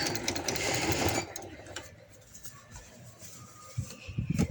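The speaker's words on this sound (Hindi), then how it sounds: "इसी तरह इसको मार्जिन को अंदर देते हुए एंड तक मैं सिलाई लगा देती हूँ" A sewing machine running with silk thread along a coat collar, a close rapid whirr for about a second before easing into quieter, intermittent stitching, with faint background voices.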